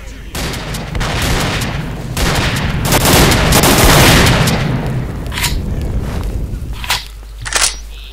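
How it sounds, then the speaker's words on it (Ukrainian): Rapid bursts of gunfire and booming blasts in the video game S.T.A.L.K.E.R. OGS Evolution, shooting at a poltergeist, pile up into a loud, dense barrage, then thin out into a few sharp shots near the end. "Стріляємо полтергейса."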